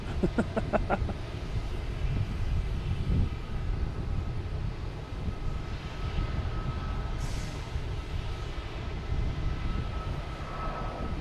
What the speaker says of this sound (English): Delta coming in, E170 landing 4 left.